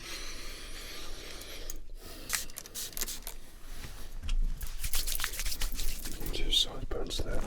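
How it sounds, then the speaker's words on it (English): Whiskey spray misted onto a customer's hair in a barbershop: several short, close hissing spritzes over a soft background of handling noises and faint murmuring. "just going to add some of this whiskey spray"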